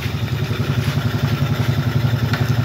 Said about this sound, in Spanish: la moto te va a arrancar en prima